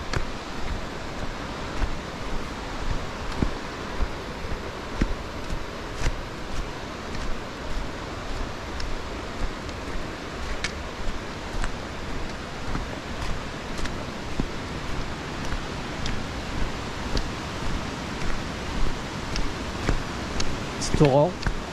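A mountain torrent rushing down from the far slope near Lake Bious-Artigues makes steady, dense roaring water noise throughout, with a person talking over it.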